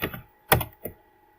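A few quick keystrokes on a computer keyboard, three distinct close clicks with short gaps.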